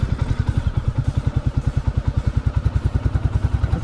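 A Bullet motorcycle climbs an off-road uphill in second gear, its single-cylinder engine thumping in a fast, even loping beat, loud and close throughout.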